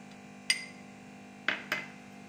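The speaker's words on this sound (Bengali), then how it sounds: "একটা বোলের মধ্যে আমি সুজিটা নিয়ে নিচ্ছি। ময়দা দেখো 2 চামচ আমি নিয়ে নিচ্ছি।" A spoon clinks against a bowl three times as semolina and flour are scooped in, with sharp bright taps spaced apart and close up, and nobody talks.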